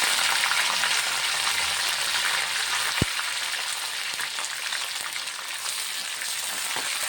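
Garlic, tomato and curry leaves fry in a pan with a loud, steady, close sizzle and crackle, broken once by a sharp click.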